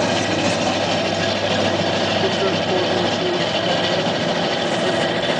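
Electric motors drive a rotating 500 kW HF directional antenna, giving a steady, loud mechanical drone and broadband rumble that runs unbroken under someone speaking.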